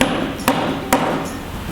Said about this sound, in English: Garfield was interrupted by hammering noises.